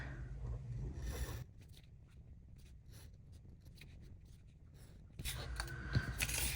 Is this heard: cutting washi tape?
yes